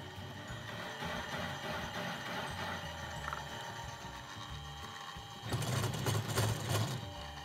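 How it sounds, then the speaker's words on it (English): A machine cuts through a weld on a hardened steel tool during a restoration, a steady faint mechanical whir that turns into a louder, harsher grinding scrape for the last couple of seconds. "So I should be able to machine through the weld"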